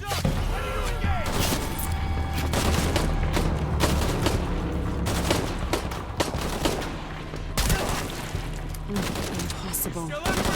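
Dense gunfire in a jungle firefight in Shadow of the Tomb Raider, with rapid automatic bursts and sharp single shots layered with booms and impacts, loud and continuous throughout, with shouted voices mixed in.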